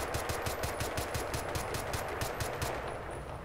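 Rapid automatic gunfire from the shooter game Crysis 2, a steady stream of evenly spaced close shots lasting over three seconds, loud and continuous with no talk over it.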